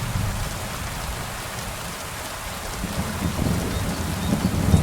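Steady rain and rumbling thunder in the video game Kingdom Come Deliverance II, a dense hiss of downpour with a low, rolling rumble swelling toward the end.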